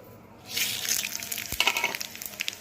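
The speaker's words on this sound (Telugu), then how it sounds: "ఈ టైంలోనే మనం పోపు వేసేసుకుందాం" Asafoetida tempering hits hot oil for a buttermilk curry with fritters, bursting into a loud close sizzle after a quiet start and crackling on steadily to the end, with no talking.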